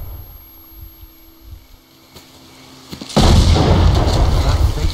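A loud explosion in the video game STALKER Call of Pripyat bursts in after a quiet stretch, then a sustained roaring rumble carries on to the end.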